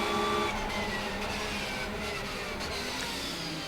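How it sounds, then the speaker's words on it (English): GPX Racing Porsche race car at night practice for a 24-hour endurance race at Portimao, a steady loud engine drone running throughout without any clear pass-by swell. "The car you hear in the background is that of Nicky Pastorelli, the GPX Racing Porsche"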